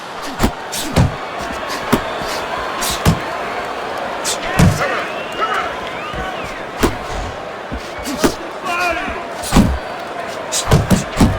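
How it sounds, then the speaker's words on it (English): Punches thud and slam in a Fight Night Champion boxing bout between Floyd Mayweather and Shane Mosley, with repeated sharp impacts landing at irregular intervals over a steady crowd murmur and commentary. "Money's landing a combination here."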